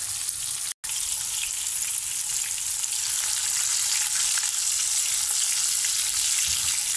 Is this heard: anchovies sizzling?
yes